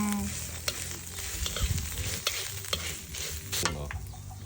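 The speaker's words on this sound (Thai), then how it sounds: "เอาคั่วเครื่องให้หอม" Homemade curry paste for stir-fried field eel sizzles in a pan, with repeated close spatula scrapes and clanks over a steady frying hiss and no talk.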